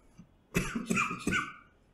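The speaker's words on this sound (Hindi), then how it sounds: "खांसी को रोक रहा था" Three short, harsh coughs in quick succession, close and fairly loud, with a brief throat-clearing quality and quiet before and after.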